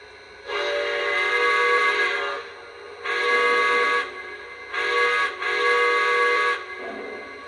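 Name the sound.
model steam locomotive whistle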